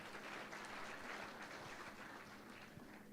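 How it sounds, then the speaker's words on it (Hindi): Faint, distant audience applause at a live interview session, a soft continuous patter of many hands heard from far off without any clear voices. "तो आप लोग अपने लिए तो एक बार ताली बजा ही लीजिए।"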